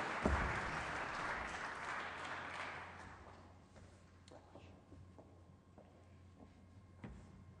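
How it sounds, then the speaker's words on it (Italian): Applause from the audience at a blockchain industry summit award ceremony in Italy, a burst of clapping that fades over about three seconds into quiet hall noise with scattered soft knocks. "Un applauso"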